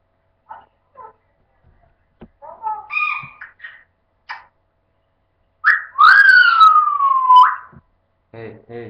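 African grey parrots whistle and chatter, with short scattered chirps and squawks leading into a long, loud sliding whistle, then a brief buzzy call at the end.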